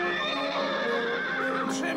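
A cartoon horse whinnies amid a lively animated chase scene, the neigh rising over a steady bed of music and voices that run through the whole moment.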